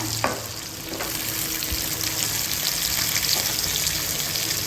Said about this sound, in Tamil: இப்போது பூண்டு போடணுங்க